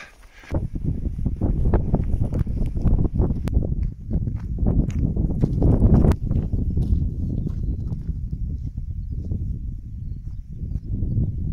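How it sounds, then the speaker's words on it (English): Strong 35 mph wind at a wild camping spot buffeting the microphone in heavy low rumbling gusts, loud and continuous after a brief quiet start. "So windy."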